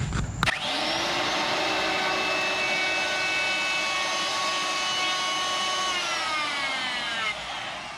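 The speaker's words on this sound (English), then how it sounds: "I think it's been a long time since I've used a router, so we're going to test it down here on the end." A handheld wood router spins up and runs steadily while rounding over the edge of a wooden board, its high, loud whine holding nearly constant for several seconds before easing down.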